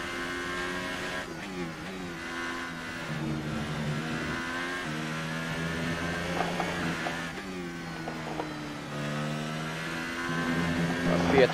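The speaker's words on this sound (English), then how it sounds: "I'm just hearing some engine noises." Formula 1 race car engines at the Austrian Grand Prix in F1 2018, a whining high-revving drone that climbs and drops through gear changes, steady and fairly close, with a voice talking over it at times.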